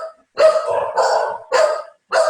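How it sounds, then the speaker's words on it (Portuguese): A small dog barks four times in short, loud, close bursts separated by brief pauses, with no talking. "Meu cachorrinho está querendo participar também."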